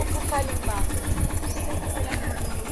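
A Yamaha off-road motorcycle engine idles with a steady low rumble on Jomalig island, under continuous talking from nearby voices.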